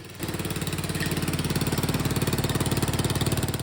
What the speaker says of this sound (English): There's a loud exhaust leak